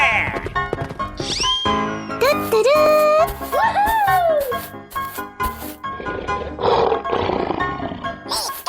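Roars from a tiger and a lion follow one another in a loud, close burst of growling bellows, some rising and falling in pitch, with sharp thwacking hits mixed in.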